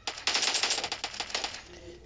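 Rapid automatic gunfire in a zombie-shooting video game, a dense burst of rattling shots that runs steadily for about two seconds and then thins into scattered cracks.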